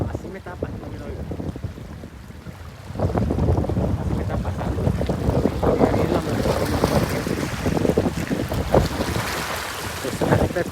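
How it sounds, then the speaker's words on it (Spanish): Rough sea swell lashing the shore at Playa del Centinela in wind and rain: a steady, loud roar of wind and surging water that grows stronger after the first few seconds, with someone briefly speaking Spanish. "mira cómo el agua está chicoteando"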